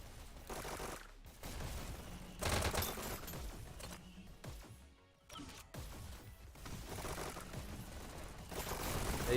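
Rapid submachine gun bursts in the Hyper Dash VR shooter during a competitive e-sports league match, dense stuttering fire with clattering impacts and brief gaps, loud and continuous across the clip.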